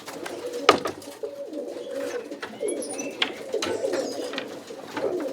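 Roller pigeons coo inside a breeding box holding hens, soft repeated throaty calls that overlap close by, with faint rustling and a sharp knock early on.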